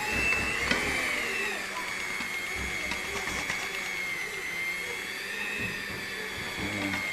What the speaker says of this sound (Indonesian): Ini cara mixer saya gini.